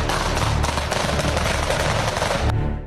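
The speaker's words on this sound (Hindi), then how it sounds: "बारूदी धमाकों से थर्राती जमीन" Dense, continuous gunfire and blasts roar on a Ukraine war battlefield, loud and close with rapid overlapping bursts that cut off near the end.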